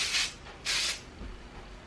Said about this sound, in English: Using that Bumble and Bumble spray again.